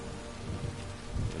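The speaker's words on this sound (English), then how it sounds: "Thunder's the sound." Thunder rumbling through steady rain in The Witcher 3 video game, two low rolls swelling briefly over a constant hiss of rainfall, fairly quiet and with no talk.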